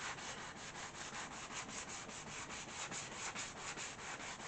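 Hand-sanding a shellac wood finish with 500-grit sandpaper during furniture restoration, a steady, rapid back-and-forth scratchy rubbing with even strokes, close and continuous.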